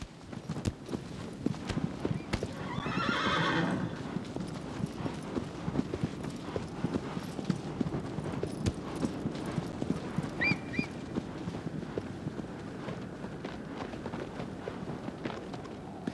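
A horse gallops in the video game Shadow of the Colossus, with steady, rhythmic hoofbeats running throughout, moderately loud and close, and brief game sounds partway through.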